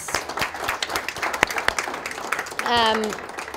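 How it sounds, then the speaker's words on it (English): Audience at a lunch event breaks into applause, a dense patter of many hands clapping throughout, with a brief voice briefly heard over it near the end. "let's give a round of applause to our ventures"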